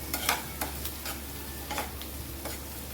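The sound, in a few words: green chili, garlic, coriander and ginger paste frying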